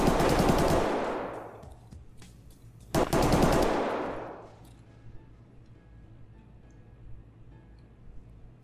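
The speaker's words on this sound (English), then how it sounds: "Such loud ass guns." Two loud bursts of automatic gunfire in the shooter game Escape From Tarkov, each about a second long, are separated by a short gap and followed by faint scattered ticks and quiet ambience.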